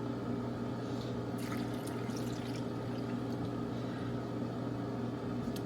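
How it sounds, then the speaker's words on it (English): Water and orange juice poured into cranberry sauce in a home kitchen: a steady, close liquid pour runs for several seconds with a gentle splashing trickle over a constant low hum, and no voices. "after the sugar, I add 1 cup of water and then another, this is like almost a cup of orange juice."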